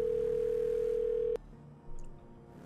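A steady telephone dial tone sounds during a phone call in the role-play game FiveM, holding loud and unbroken for over a second before cutting off abruptly, leaving faint background noise.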